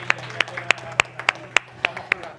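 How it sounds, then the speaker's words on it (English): Scattered clapping at a Huawei digital talent summit: a handful of sharp, evenly spaced claps, close and distinct rather than a full crowd ovation, over a low background hum. "Again, a big applause to all of you."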